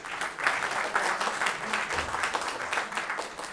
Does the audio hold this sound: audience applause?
yes